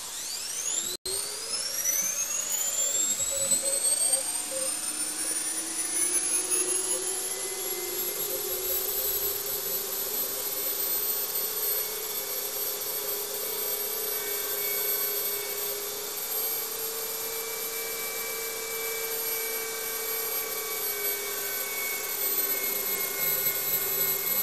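A newly acquired grinding machine in a workshop spins up with a rising whine and then holds a steady high-pitched tonal drone at close range, loud and continuous.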